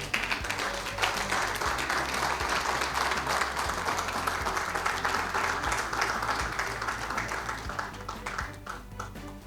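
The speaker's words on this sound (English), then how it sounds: "So their applause should be deafening." Sustained, dense applause from an audience at an essay competition prize presentation for the finalists, steady and fairly loud throughout with a low hum underneath.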